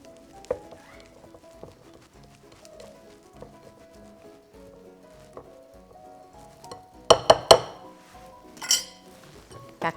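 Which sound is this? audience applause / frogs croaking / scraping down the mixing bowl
scraping down the mixing bowl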